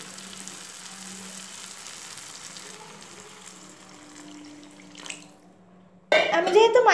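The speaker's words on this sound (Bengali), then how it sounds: "মশলার থেকে আমার তেল বেরিয়ে এসছে, এবার আমি এর মধ্যে জল অ্যাড করব" Spice masala sizzles quietly in a pan for several seconds before water is poured in, setting off a sudden loud burst of hissing and bubbling that stays strong to the end, near and without talk.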